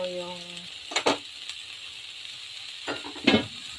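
Chicken steak cooks in a pan, a steady sizzle under a couple of short bursts of stirring or utensil scraping, preceded by a brief tonal beep at the start.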